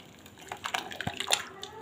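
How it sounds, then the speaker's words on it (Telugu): Hot water is poured into a pot of cooked dal in a home kitchen, a splashing, trickling pour with sloshing bursts that builds and fades over about two seconds, close and moderately loud. "వేడి నీళ్ళు వేసుకోవాలి"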